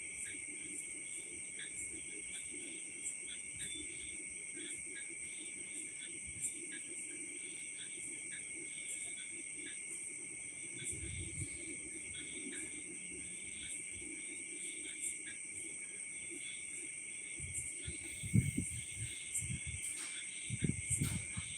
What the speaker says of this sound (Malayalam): ചീവീട് കരയുന്ന ഒച്ചയൊക്കെ കേൾക്കുന്നുണ്ടോ